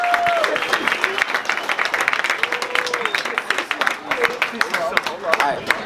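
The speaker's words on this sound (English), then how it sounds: "Huge round of applause." An audience at a mentoring summit breaks into steady applause, many hands clapping in a dense, continuous patter while a voice carries on over it.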